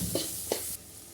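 Onions and garlic frying with chili powder being stirred in, a soft steady sizzle with two quick scraping stirs of the spoon, close and fairly faint.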